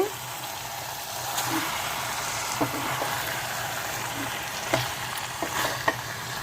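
Chicken fry with onions, ginger-garlic and spices sizzling and being stirred in a pan over a high flame, with steady close frying hiss and occasional scraping clicks from the stirring utensil, no talk.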